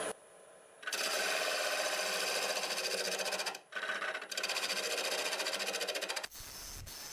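A wood lathe spins a segmented star bowl at about 1,000 RPM while a bowl gouge cuts away wood, making loud, close, rhythmically pulsing scraping bursts broken by brief pauses.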